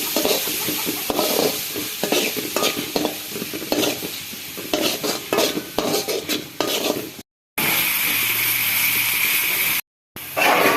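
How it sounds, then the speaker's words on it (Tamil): Onions and fennel frying in oil in a home kitchen pan, a steady loud sizzle broken by repeated scraping stirs of a utensil and a few metallic clinks, with two brief silent gaps near the end. "வெங்காயம் சேர்த்து நல்லா கோல்டன் கலர் ஆக வச்சு நல்லா ஃப்ரை பண்ணி எடுத்துக்கலாம்."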